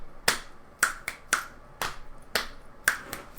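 A series of crisp finger snaps used as body percussion, about eight sharp snaps in a loose repeating pattern, close and alone with no voices.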